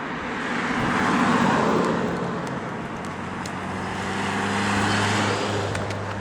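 Cars drive by on a road on a sunny day, a steady roadway rumble that swells twice as vehicles pass fairly close, with no voices.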